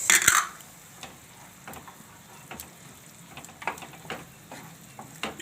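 Red-fried onions and tomato gravy for chole sizzle steadily in a pan, with sharp utensil clinks and scrapes as the mix is stirred; a close, continuous fry with no talking.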